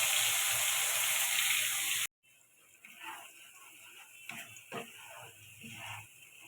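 Ridge gourd paste hits hot mustard oil tempered with nigella seeds and dried chillies, a loud, dense sizzle for about two seconds, then an abrupt cut to quiet, scattered clicks and soft kitchen clatter.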